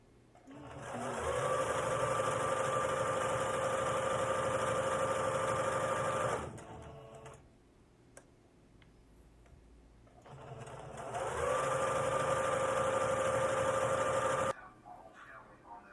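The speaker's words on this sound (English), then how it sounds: "Hemming the bottom of these half circles" A sewing machine hems the bottom edge of half-circle trouser cuffs in two long, steady, close-up runs separated by a short pause, with no talking.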